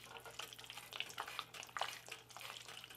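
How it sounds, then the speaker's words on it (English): Cheese dip stirred in a pot over low heat, a soft, steady scraping and gentle bubbling with small irregular clicks from the spoon, close and fairly quiet, with a low constant hum underneath. "So I'm just gonna stir this yummy goodness."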